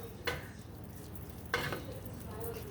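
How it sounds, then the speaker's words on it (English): Spinach cooked in olive oil in a pan for breakfast: a quiet, low sizzle with two distinct scraping stirs, alone and fairly faint. "So now we're just going to stir this around."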